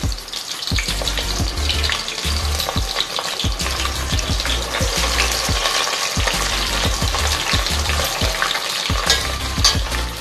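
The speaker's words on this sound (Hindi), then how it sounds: "अब मैं इसमें अपनी कटहल ऐड कर रही हूँ। कटहल को मुझे ब्राउन होने तक फ्राई करना है।" Jackfruit chunks, about 250 grams, browning in hot oil for kathal pulao: a loud, continuous close-up sizzle punctuated by regular scraping and stirring knocks of a spoon, and no speech.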